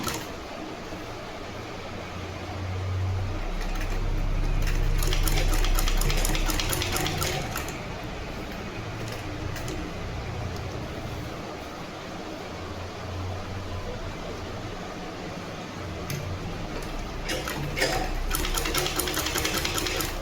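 Sewing machine stitching fabric for a neck design, a steady fast mechanical whir running throughout with brief pauses and restarts, close and fairly loud.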